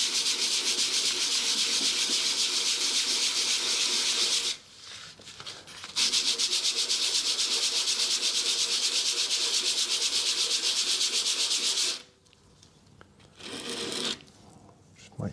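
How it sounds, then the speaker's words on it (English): Ford Transit Connect 1.6 TDCi diesel (2014) brake pads scrubbed by hand on a 120 grit sanding disc laid on a flat surface to remove glaze; a loud rhythmic rasping back-and-forth scrape in long bursts with brief pauses between. "I've just got a 120 grit sanding disc to hand here on a flat surface"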